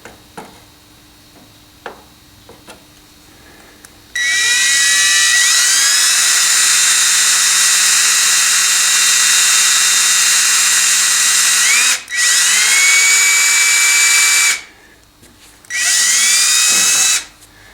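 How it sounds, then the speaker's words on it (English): A power drill with a 2mm bit bores holes in a Walthers 12-stall model railroad roundhouse, its loud high whine running in one long stretch and then two shorter bursts, with no talk. "Drilling the holes now."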